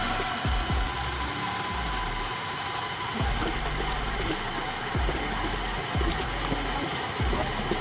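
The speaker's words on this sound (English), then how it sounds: "You're now gonna wanna turn this on the lowest setting you have for around 15 minutes" A stand mixer runs on its lowest setting, kneading bagel dough into a ball, with a steady whirring hum and soft, recurring thumps as the dough turns around the bowl.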